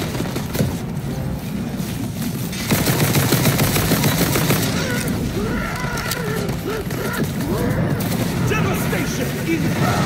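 Gunfire in the game Tiny Tina's Wonderlands, loud sustained bursts and rapid shots over a dense battle din, with voices talking beneath the shooting.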